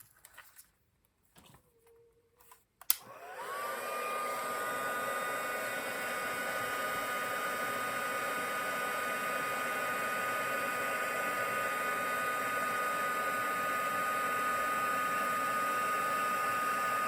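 A heat tool switches on after a few faint clicks and handling noises, then blows a loud, steady whooshing hum close by while it melts embossing powder on a card, with no talking.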